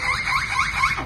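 A parrot imitates a car alarm in a short burst of repeated rising and falling whoops, four quick cycles, fairly close and clear.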